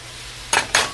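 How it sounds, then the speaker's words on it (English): Two quick scraping clinks of a utensil against a pot while stirring chopped red cabbage and apples, sweet-and-sour style, each stroke bright and close over a quiet background. "Give that a stir."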